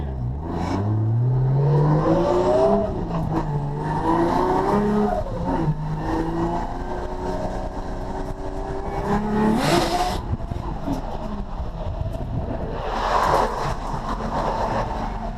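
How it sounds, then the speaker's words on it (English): A 1JZ-swapped drift car runs on track with its boost turned all the way down and the wastegate removed. It revs hard through repeated rising and falling sweeps, loud and close, with a sharp high burst near the middle. "Man, I absolutely love the way the car sounds now."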